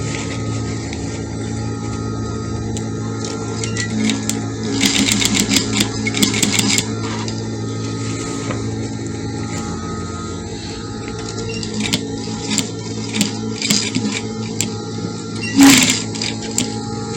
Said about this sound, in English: So you sew it in between the lines, and at the center of the gold accessories.